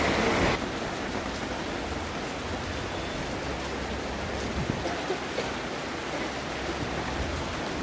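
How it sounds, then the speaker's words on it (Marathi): Steady rain falling outdoors, a continuous broadband hiss throughout with a brief louder burst at the start and faint scattered knocks beneath. "पाऊस लागतोय ना"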